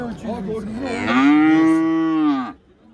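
A cow lows loudly and close at a busy livestock market, one long sustained moo rising out of crowd murmur and ending abruptly.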